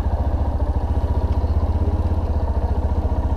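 A motorcycle engine idles in neutral during a riding-safety training course, a steady close, loud pulsing throb with an even rhythmic beat and no other sound over it.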